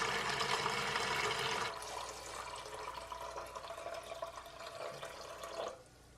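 Water splashes and churns steadily while a cleaning solution for reef tank pumps is mixed, a dense rushing wash that eases off then stops near the end, with no voices.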